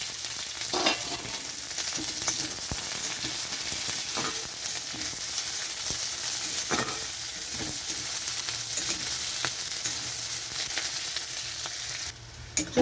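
Onion and green chilli fry in hot oil with cumin, garlic and ginger, a steady loud sizzle with occasional scraping stirs and small pops, close by and without talk.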